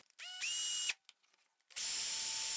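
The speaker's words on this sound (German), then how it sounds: "baue ich mir hier in mein Holzstück, in die Stirnseite, eine kleine Bohrung rein" Small drill boring a hole into the end grain of a piece of wood, heard as two loud steady whining bursts of the motor, the second starting after a short pause, with no talk.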